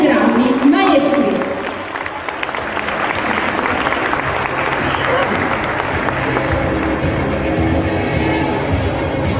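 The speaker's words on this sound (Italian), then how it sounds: "davvero un grandissimo applauso a questa coppia di grandi campioni e di grandi maestri" Sustained applause from an audience at a Romagna folk dance event, honoring a polka-dancing couple; dense, steady clapping fills the full stretch with some crowd noise, loud and close throughout.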